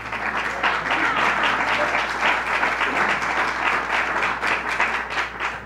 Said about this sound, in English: they are a little slow to the applause